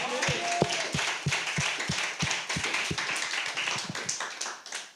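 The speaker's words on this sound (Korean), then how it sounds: "우리에게 부활의 확신을 주신 하나님께 영광의 박수 올려드립니다." A church congregation at an Easter thanksgiving service claps in unison, with sharp, evenly spaced claps ringing out over a lively crowd wash that holds steady before tapering off at the end.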